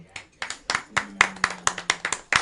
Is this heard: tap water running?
no